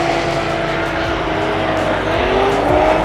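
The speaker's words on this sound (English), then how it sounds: "Look at that 350Z right there." A Nissan 350Z running at a GRIDLIFE track event where cars are drifting, its loud engine roaring steadily with rising revs and a hint of tire noise against a busy outdoor background.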